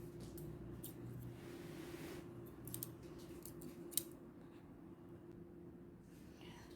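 Scissors cut through fabric for an A-line gown, giving a series of short, crisp snips at a quiet, close level over a low background hum, with no voices.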